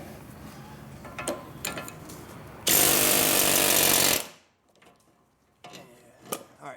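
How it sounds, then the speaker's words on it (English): A pneumatic air gun drives a pickle fork to split the tension strut ball joint from the steering knuckle of a Dodge Charger-family car, giving a loud sustained hammering burst of about a second and a half between quieter workshop clatter. "we used our air gun with a pickle fork to separate it"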